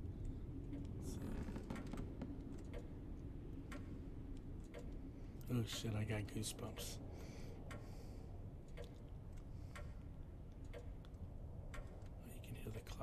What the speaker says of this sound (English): you can hear the clock ticking